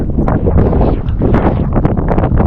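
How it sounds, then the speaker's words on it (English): Strong, gusty wind of 21 mph gusting to 50 roars and buffets the microphone in a continuous broadband rush, surging and easing without pause. "We have 21 mile an hour winds, gusting to 50."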